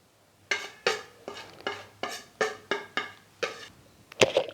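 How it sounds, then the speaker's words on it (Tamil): Besan flour being stirred with turmeric, chilli powder, pepper and salt in a bowl for an egg omelette batter, about ten regular scraping strokes, close and distinct, ending with a couple of sharper knocks. "கடலை மாவு, மஞ்சள் தூள், மிளகாய்த்தூள், மிளகுத்தூள் எல்லாம் ஒன்று சேருங்க"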